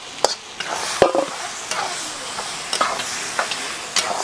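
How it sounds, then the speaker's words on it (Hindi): Eggplant stirred in hot oil sizzles steadily while a utensil scrapes and knocks against the pan in a string of sharp, irregular clicks. The sound is close and clear, with no talking. "इसमें अब ये बैंगन डालेंगे।"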